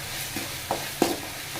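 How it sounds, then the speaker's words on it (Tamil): Salted tomatoes sautéing in a pan for a capsicum egg gravy give a brief, low sizzle with a few quick spoon scrapes and taps. "தக்காளி அதை கொஞ்சம் வதங்கட்டும்."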